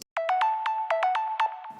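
Bright sine-wave synth lead from Serum with no compression or distortion, playing a quick staccato melody of about a dozen plucked notes, thin and clean, alone with no voices.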